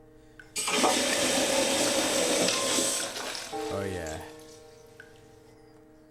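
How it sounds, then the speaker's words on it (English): A toilet flushes in The Cat Lady video game: a sudden loud rush of water that churns for a few seconds, then gurgles and trickles away as a voice speaks briefly. "Flush the toilet."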